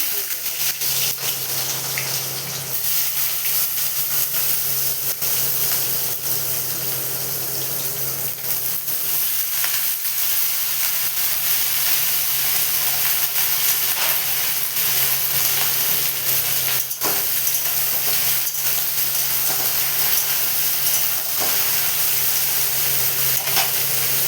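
Ridge gourd fries in a pan with a steady, broad hiss and sizzle of hot oil, with occasional knocks and stirring noises; a voice talks faintly now and then.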